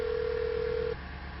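A telephone call is placed in a Hindi-dubbed action film scene: one steady electronic phone tone holds for about a second and then cuts off, leaving low background hum with no talk.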